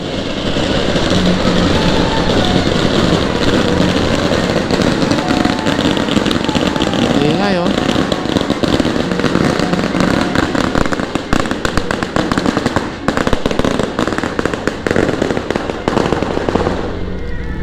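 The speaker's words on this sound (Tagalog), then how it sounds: "guys ang ingay nila nagpaputok sila" Firecrackers crackle and pop continuously in a loud, dense barrage, with rumbling low noise underneath and no clear gaps.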